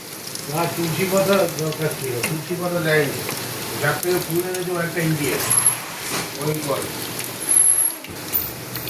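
Onion fritters (piyaji) bubbling and sizzling in hot oil, a steady crackling fry close by with a person talking over it throughout.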